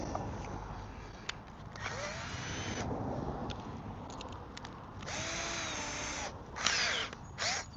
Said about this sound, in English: I'm already drilling new holes through it.